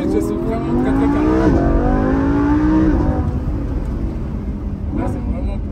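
A Lamborghini driven on a public road, engine note rising through revs with a gear change midway, loud and close inside the car, with people talking over it.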